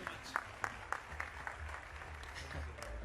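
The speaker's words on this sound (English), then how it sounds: "Just another applause for them." An audience claps for guests welcomed onto a stage at a forex trading event, with a steady, fairly soft patter of clapping that carries sharper individual claps throughout.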